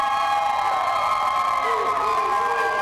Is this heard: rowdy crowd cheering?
yes